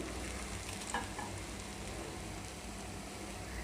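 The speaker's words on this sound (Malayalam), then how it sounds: "ഞാൻ ബാക്കിയുള്ള ചിക്കനും കൂടെ പൊരിച്ചെടുക്കട്ടെ." Kerala-style fried chicken sizzles steadily in a hot pan of oil, a dense continuous crackle and hiss with a few brief louder pops near the start.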